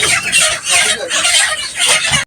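A dense flock of 22-day-old broiler chickens in a poultry farm shed of about 2,500 birds produces loud, continuous overlapping clucks and chatter close by.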